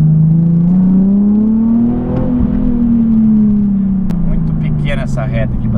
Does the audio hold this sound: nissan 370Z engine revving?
yes